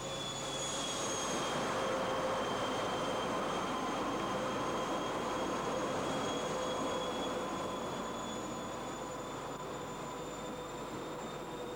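An Inter-City 125 high-speed diesel train runs along the line, a steady rumbling roar with sustained whining tones and faint wheel squeal, holding a constant level throughout with no voices.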